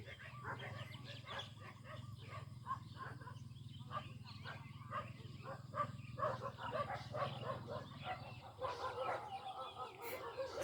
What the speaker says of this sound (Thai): สียงหมาเห่าสนั่นเลย